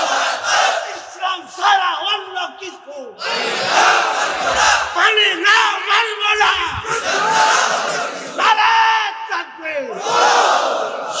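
A large crowd at an Islamic religious gathering shouts Allahu Akbar in reply to a takbir call, with loud massed voices rising in repeated swells across the whole stretch.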